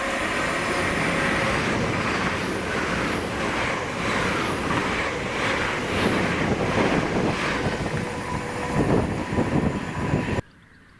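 A Class 800 unit, 800113, on a King's Cross to Aberdeen service at Monifeith passes close by with a sustained, loud rushing roar and wind buffeting, the noise holding steady for about ten seconds before cutting off abruptly.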